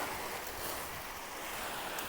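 Sea waves wash continuously along the Danish coast, a steady broad rushing surf with some wind noise on the microphone, moderately distant and unbroken.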